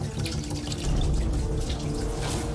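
Water runs steadily from a household tap in Crimea, a continuous close rushing stream that fills the whole moment with no voices over it.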